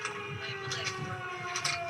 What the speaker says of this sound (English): The tornado sirens still sounding